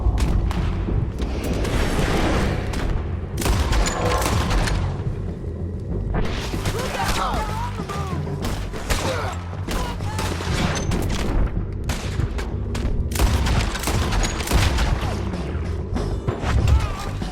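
Sustained Red Dead Redemption 2 shootout, dense overlapping gunshots and booming reports rolling on without pause, loud and close, with shouted voices underneath the firing.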